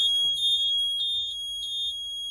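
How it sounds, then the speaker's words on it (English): A military truck's low air pressure warning, with no air in the tanks, beeps repeatedly in a high electronic tone, in a steady rhythm of short pulses, with no talking. "because I have no air pressure in my tanks, it's going to keep beeping"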